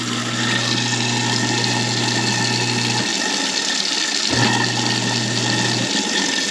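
A kitchen garbage disposal runs with water flowing, a steady close motor hum and rushing water that cuts out briefly twice, then resumes.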